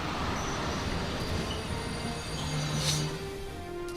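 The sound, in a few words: train passing in the video game Valkyria Chronicles 4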